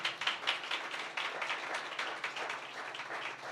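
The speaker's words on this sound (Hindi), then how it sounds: "ये सब आपको तालियां बजाकर वेलकम कहते हैं।" Church congregation at Christ Holiness Church clapping in welcome: dense, rapid applause from many hands throughout, steady and moderately close with no talk over it.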